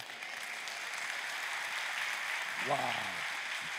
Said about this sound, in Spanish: Dar un aplauso a Wow.